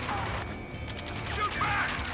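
Rapid gunfire crackles in the video game Ace Combat 7, bursts of shots and impacts layered over a loud battle din, with faint radio-style voices mixed in.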